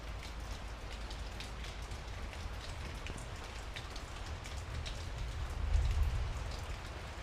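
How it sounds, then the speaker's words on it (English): Steady storm rain patters on a surface nearby, a dense continuous hiss of drops with a brief low rumble swelling near the end. "So all of a sudden there's a storm apparently."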